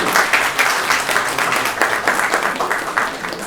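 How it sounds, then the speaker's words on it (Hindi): A theatre audience gives loud, sustained applause to the mostly first-time cast of a comedy play, a thick, continuous crackle of many clapping hands with no speech. "जोरदार तालियां हो जाएगी"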